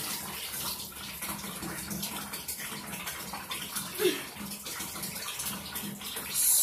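A bathtub fills from the tap, water pouring in as a steady, broad hissing rush that continues throughout at moderate level, with a faint voice briefly in the background.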